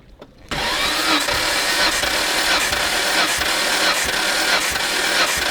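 A Nissan Skyline GT-R engine cranking on the starter during a compression test, a loud, steady, rhythmic whirring churn that starts abruptly and continues evenly close up.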